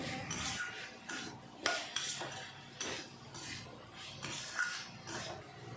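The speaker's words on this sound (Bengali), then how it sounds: "এখন মশলার সাথে আলু ভালো করে কষিয়ে নেব" A spoon stirs diced potatoes with spice masala in a metal pan over a low flame for mutter paneer. Close, repeated scraping and clinking strokes come in an uneven rhythm, with no talk.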